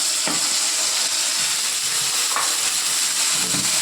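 Ginger and garlic frying in a pan, a bright steady sizzle and hiss with a few soft stirring knocks scattered through, close and continuous.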